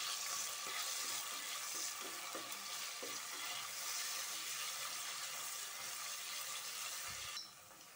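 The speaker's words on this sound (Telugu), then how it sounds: "అలాగే 1 పచ్చిమిర్చి వేసుకొని ఒకసారి ఫ్రై చేసుకోండి" Sliced onion and a green chili frying in hot oil in a pan, a steady close hiss and crackle that runs unbroken and fairly loud, with a few soft stirring knocks and no one talking.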